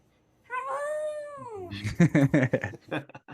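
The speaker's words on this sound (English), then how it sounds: "just listen to him sing" A dog howls in a long rising and falling tone, followed by choppy yowling bursts of singing-like vocalizing, close and fairly loud, with no talking over it.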